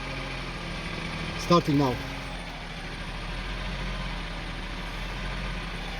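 A Honda CR-V engine idling roughly hums low and steady in the background while someone speaks briefly up close.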